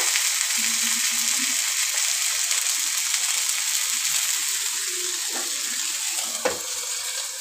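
Chicken reshmi kebabs on sticks frying in refined white oil on a flat griddle, giving a steady, even hiss that stays close and constant throughout, with a few faint clicks and a brief knock near the end.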